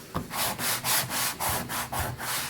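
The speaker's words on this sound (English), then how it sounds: "rough up this vinyl-y tape stuff" Rapid back-and-forth scraping strokes roughing up the surface of vinyl tape, close and fairly loud, like rough sanding or scuffing, repeating in a steady rhythm.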